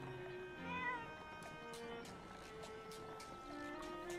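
Cat villager in Animal Crossing New Horizons: a series of soft, pitched meows and chirpy vocal sounds, quiet and close, repeated over a gentle game backdrop.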